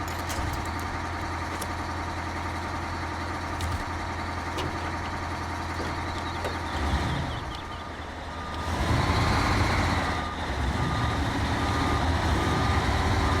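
In the video game Snowrunner, a heavy truck engine idles with a steady low rumble and a repeating reversing beep, then revs and surges louder as the truck tries to pull free.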